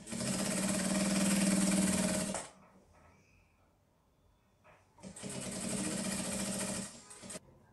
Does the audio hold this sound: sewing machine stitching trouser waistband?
yes